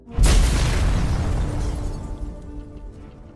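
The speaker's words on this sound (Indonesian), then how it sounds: "Maria pun langsung meledakkan pabrik tersebut" A factory blows up in an action film: a loud, sudden boom bursts in near the start, then rumbles on as a long, rolling decay with crackling debris, with no speech over it.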